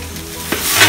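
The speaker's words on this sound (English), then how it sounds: "So now we pour in the chili paste. In goes the belacan also." Chili paste and belacan hit hot oil in a pan for Singapore-style sambal chilli, giving a close, steady sizzle that swells louder toward the end, with a brief clatter midway as the paste goes in.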